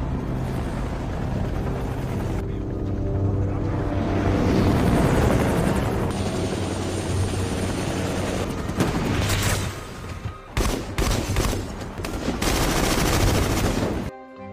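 Loud bursts of gunfire and rapid automatic shots rattle over a constant heavy rumble, with booming impacts throughout.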